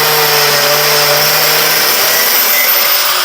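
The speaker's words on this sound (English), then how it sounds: "I'm just taking the cutoff wheel, cutting off, not too much." A cutoff wheel slices through metal while a Corvair bearing adjusting sleeve tool is being made, giving a loud, steady, high-pitched grinding whine that holds without a break.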